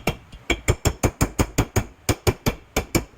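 Metal hammer blows knocking a part to centre it on a cheap homemade hydraulic tubing bender, about fifteen sharp, ringing strikes in a quick, fairly even rhythm with one brief pause, close and loud.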